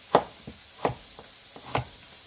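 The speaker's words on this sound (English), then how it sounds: "I'm cutting them nice and thin." Three crisp knife chops through thin-sliced broccoli stems on a cutting board, spaced evenly and close, with fainter taps between them in a quiet kitchen.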